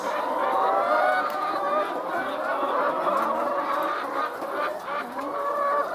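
A dense flock of egg-laying hens clucks and squawks continuously, a loud overlapping chorus with no pauses.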